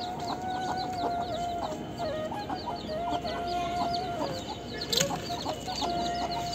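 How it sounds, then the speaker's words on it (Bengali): Silkie chickens cluck near at hand in repeated short calls over a steady, busy farmyard background, with one sharper squawk partway through and no one speaking. "আমার যে সিল্কি মুরগিগুলো ছিল।"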